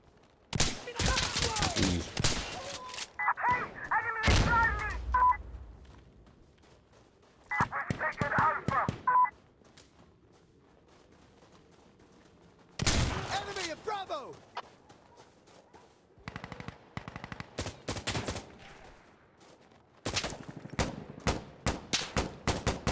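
Insurgency Sandstorm gameplay brings repeated bursts of loud, close gunfire from revolver and shotgun fights, with rapid volleys separated by quieter stretches.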